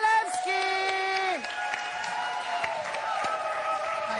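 Studio audience at a talk show applauding and cheering as a guest departs, a sustained crowd roar with clapping and whoops, mixed with music and some voices.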